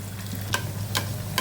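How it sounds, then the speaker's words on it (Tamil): Chicken donuts frying two at a time in hot oil, a steady sizzle with a few sharp scrapes or stirring clatters spaced apart, no voices. "ஒரு நேரத்துக்கு நம்ம 2 டோனட் ஃப்ரை பண்ணி எடுக்கலாம்."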